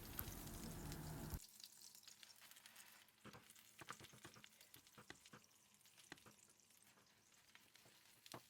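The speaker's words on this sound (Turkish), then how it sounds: "Evet, kontrollü bir şekilde kızartmaya devam edelim." A semolina dessert frying in butter in a pan gives a loud hiss for the first second, then settles into quieter crackling sizzle with scattered sharp pops, heard close with no voices.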